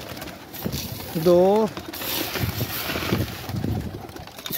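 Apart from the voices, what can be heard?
pigeons cooing in a loft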